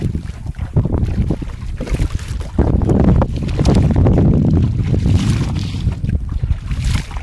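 A boat crosses the Garal river in the Sundarbans with a steady low rumble of engine and water, overlaid by gusting wind buffeting the microphone. The sound stays loud and continuous throughout.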